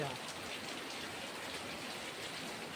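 Steady rain pours down on a village house, a dense, even hiss of falling water that stays constant throughout at moderate loudness.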